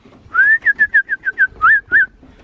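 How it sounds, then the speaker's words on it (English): A man whistles to call his pigeons home: a rising whistle, a run of seven quick chirping notes, then two longer swooping tones, loud and close. "I made my fancy whistle."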